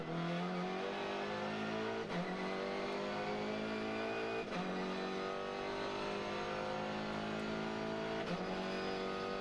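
Race car engine at the Macau street circuit, downshifting hard down to first gear through Melco hairpin, loud and close with repeated revving blips, then climbing back up through the gears.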